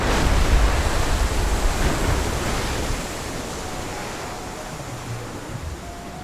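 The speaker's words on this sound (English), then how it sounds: "This is called a geyser." A geyser erupts in the Ambarino region of Red Dead Redemption 2, a loud, steady roar of rushing water and steam that eases slightly partway through and then holds on without pause.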